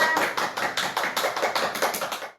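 A classroom of schoolchildren claps for two students, a brief burst of brisk, rhythmic hand claps at close range that fades out after a couple of seconds.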